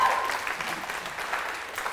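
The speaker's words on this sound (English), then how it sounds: "can we have a round of applause for Ben Z?" Short burst of audience applause for a speaker at a founders' talk, steady moderate clapping spread across the room, fading slightly toward the end.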